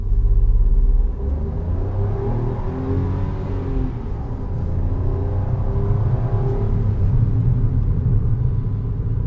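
A 2021 Maruti Suzuki Celerio pulls away and accelerates, its engine a loud, steady low rumble and drone heard from inside the car for about nine seconds, with a rising whine and no talk.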